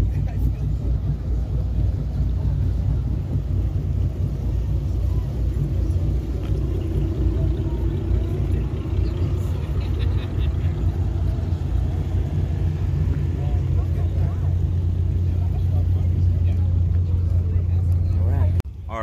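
Many cars idling side by side as they line up in four lanes at a drag race event, a continuous deep engine rumble that holds steady and fairly loud for nearly twenty seconds, with no talk audible.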